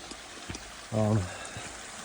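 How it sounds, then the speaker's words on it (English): A small creek at a campsite in Patagonia, Chile, gives a soft steady rushing flow throughout, with a voice breaking in briefly over it. "You get some really nice white noise at night. This little creek help you sleep."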